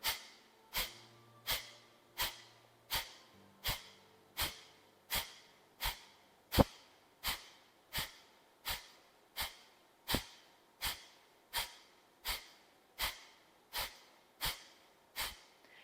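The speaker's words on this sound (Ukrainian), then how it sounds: "Тому робимо пасивний вдих і активний видих." Forceful yoga pranayama breathing with passive inhales and sharp active exhales: about two dozen short, even puffs of breath at a steady quick rhythm, close and fairly loud, with a faint low tone underneath at first.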